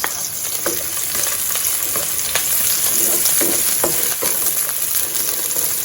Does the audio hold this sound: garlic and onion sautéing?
yes